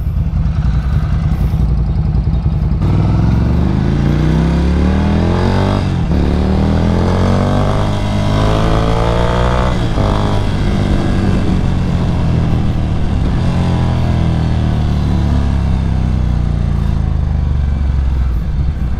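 A Ducati Scrambler or Honda CB650R motorcycle roars loudly up close, its exhaust rising and falling through repeated revs and gear changes while riding.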